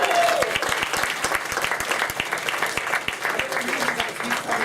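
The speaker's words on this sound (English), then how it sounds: "Round of applause for Len Fredericks." Lively audience applause for entertainer Len Fredericks at a Connecticut show, dense clapping with sharp rhythmic hand claps and some crowd voices, steady and fairly close throughout.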